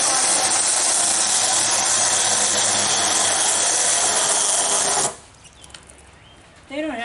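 A battery chainsaw cuts through a log with a steady, loud, high buzzing whine for about five seconds, then stops abruptly, leaving quiet outdoor ambience and a brief faint sound near the end.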